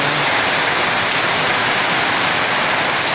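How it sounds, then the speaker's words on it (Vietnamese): A downpour of heavy rain roars in an unbroken, even wash of noise, near and loud throughout, with no speech. "Hôm nay thấy rất là hạnh phúc khi mưa đến, mưa rất lớn nha."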